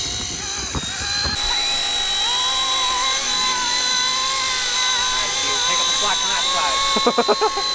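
RC helicopters hover close by with a steady high-pitched whine of rotors and motors that holds throughout, shifting slightly in pitch, while people talk over it and a few short thuds come near the end.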